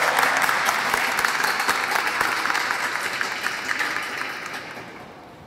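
At a Hispanic Heritage Month closing ceremony, an audience gives a round of applause to welcome a silver sponsor onto the stage. The dense, sustained clapping fills the room, then gradually fades toward the end.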